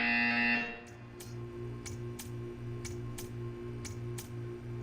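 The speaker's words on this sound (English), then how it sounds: "You will hear a buzzer." A loud, harsh buzzer from the video game Portal 2 sounds for about half a second. It is followed by a steady run of faint, evenly spaced ticking pulses over a low hum.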